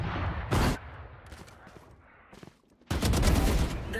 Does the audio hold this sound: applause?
no